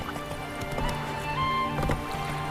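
Horse hooves clip-clopping at a gallop in The Witcher 3, a steady rapid beat of close, moderately loud footfalls with a brief snort or whinny over ambient game background.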